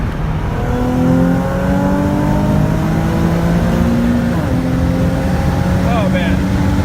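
Nissan 370Z fitted with test pipes revs loud and close, a steady engine drone with rising and falling pitch sweeps, while voices talk over it.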